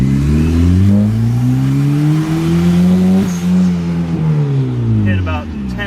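The turbocharged F23 engine of a boosted Honda Accord pulls hard under acceleration while driving, a loud droning engine note rising steadily in pitch through the gear, heard from inside the car with a brief shift-like dip.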